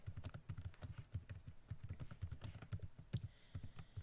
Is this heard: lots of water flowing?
no